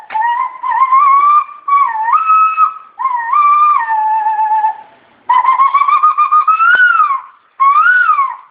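A man imitates bird calls with his voice, whistling a series of clear, warbling phrases with rising and falling pitch in several separate bursts, loud and close with short pauses between.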